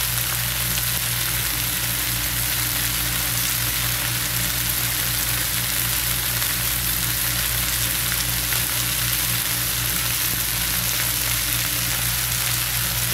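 Ingredients sauté in a hot frying pan with a steady, dense sizzle that holds even and close throughout, with no voices.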